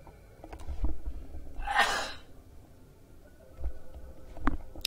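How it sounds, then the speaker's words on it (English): A single sneeze bursts out around the second mark, loud and breathy, with quiet room tone and small scattered clicks around it. "Excuse me, I have to sneeze."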